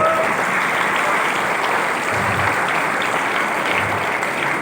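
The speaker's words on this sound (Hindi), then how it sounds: "तो जोरदार तालियां बनती हैं आप सबके लिए।" Loud, sustained audience applause fills the room at a comedy show, dense steady clapping from a large crowd with no one talking over it.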